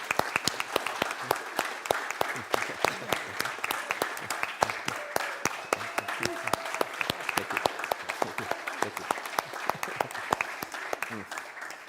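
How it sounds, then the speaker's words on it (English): A congregation at a Sunday celebration service claps for two people, a long stretch of sharp, steady clapping from a moderate-sized crowd with some voices mixed in. "let's give a round of applause for Valerie and John"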